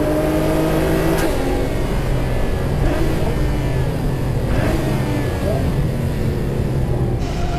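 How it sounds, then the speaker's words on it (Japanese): HKS- and Trust-tuned cars launch side by side in a standing-start acceleration run, their engines roaring loud and steady with gear-change shifts, under constant wind and road rumble. "こちらは HKS とトラストのゼロ加速対決。"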